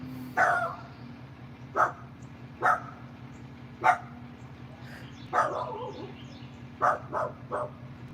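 A dog barks in short separate bursts, about eight barks spaced irregularly, over a low steady boat engine hum.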